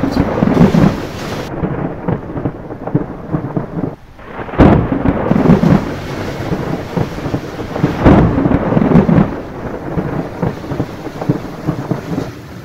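A thunderstorm with rain at a rural eco resort near Kolkata, heavy steady rainfall hissing throughout while deep thunder rumbles swell and roll in several loud waves.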